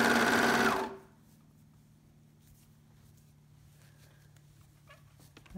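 A sewing machine stitches a sleeve to a shoulder in a single loud, fast burst that stops abruptly after about a second, followed by quiet room noise and faint handling.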